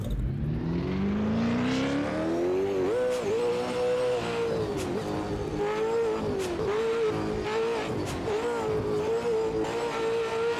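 A race car engine in the Automobilista 2 racing game revs hard, climbing in pitch and then holding a loud, steady high drone broken by brief dips and gear-change blips, with no voices over it.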